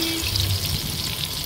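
Mushrooms frying in a hot pan with oil, a loud steady sizzle and crackle filling the short moment without voices.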